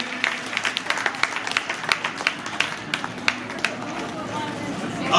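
Audience at an ashram kirtan claps to welcome visiting saints, a steady crackle of many hands with some voices underneath.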